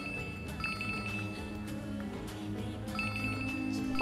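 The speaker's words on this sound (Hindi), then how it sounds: "ओहो ये फोन भी नहीं उठा रही है।" A telephone rings unanswered in a Hindi-dubbed film, with two short bursts of rapid trilling bells about two and a half seconds apart, fairly faint over a low background bed.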